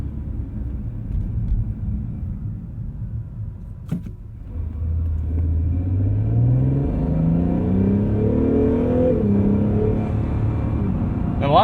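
A 2020 Acura NSX hybrid revs in sport mode as it accelerates. After a quieter opening with a sharp click, the engine note climbs steadily in pitch and loudness, loud and close from inside the cabin.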